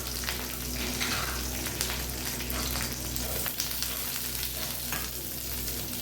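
Chopped onion and curry leaves fry in a pan, giving an even, close, continuous sizzle and crackle with no talk.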